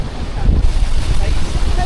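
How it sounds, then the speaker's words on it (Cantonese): Big waves hit a boat in strong wind. Heavy wind buffets the microphone over a loud, churning rush of water, with rising surges of splash and rumble throughout. "好勁啊！臨尾嗰啲浪。"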